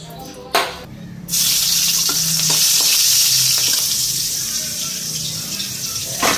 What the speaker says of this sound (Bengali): তরকারিটা এখন বসাই দিই কালো জিরা সম্বাদ দিয়া